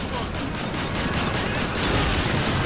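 A dense, continuous roar of heavy gunfire from an armored car's large gun in Call of Duty 2, loud and sustained without a break, like a large weapon firing rapid bursts.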